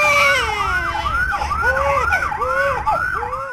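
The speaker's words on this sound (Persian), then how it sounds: "آمبولانس" An ambulance siren wails loud and close, repeating quick rising and falling sweeps in a steady cycle for several seconds.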